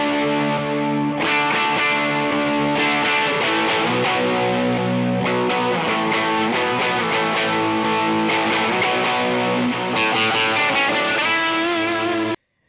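Electric guitar runs through the red channel of a Morning Glory overdrive pedal, producing loud, saturated, effect-laden chords and busy riffs that play continuously without pause, with no one speaking.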